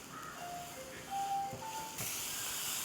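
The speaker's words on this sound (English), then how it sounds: "And we will stir fry this." Chopped onions, green chilies and mushrooms hit a hot pan for stir frying, a steady broadband sizzle rising about two seconds in and holding loud, with a few thin whistling tones drifting over the quieter start.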